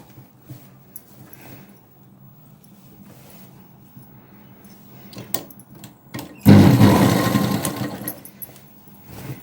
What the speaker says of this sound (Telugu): ఇలా పైనుంచి స్టిచ్ వేసుకుందాం